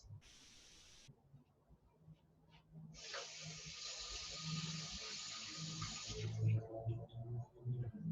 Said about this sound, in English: I'm gonna rinse my hands